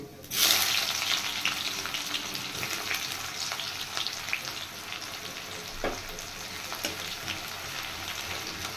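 Chopped onion, added after a little minced garlic, sizzles and crackles steadily in hot oil in a pan, a dense close frying hiss that runs the whole time with occasional stirring scrapes and no talk.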